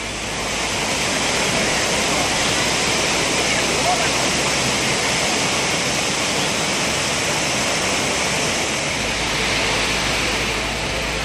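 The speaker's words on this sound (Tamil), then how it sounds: "அருவி, சிற்றருவி, புளியருவி உள்ளிட்ட அனைத்து அருவிகளிலும் தற்போது தண்ணீர் ஆர்ப்பரித்து கொட்டுகிறது." Waterfall in Courtallam gushing heavily, a steady broadband roar of falling water, loud and unbroken.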